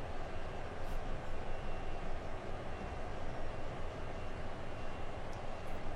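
Low steady rumble of a train rolling along in a video game, a constant droning engine and rail noise with no voices.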